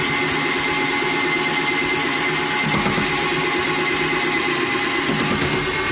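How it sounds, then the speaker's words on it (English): A Black & Decker battery drill running at low speed to stir a pale ale home brew kit in an apartment, giving a steady continuous motor whir with no talk. "I use a battery drill."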